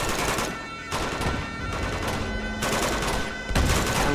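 Sustained gunfire in the video game Uncharted 2: Among Thieves, with rapid automatic bursts rattling without pause, loud and close, in a few surging waves.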